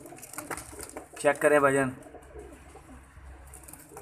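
A fancy pigeon coos in a short throaty burst close by, while someone speaks over it and briefly before it.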